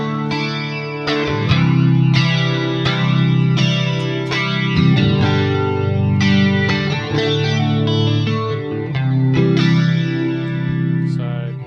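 Sustained electric guitar chords, run through EQ, a rotary speaker effect, a phaser and reverb, swirl and shimmer with a wobbling, spinning modulation and lush reverb tails, played loud in slow strummed phrases.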